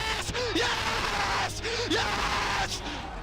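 An esports player lets out a loud, strained scream on team voice comms after a hot fight over the Drake, two sharp yelling bursts over steady background noise.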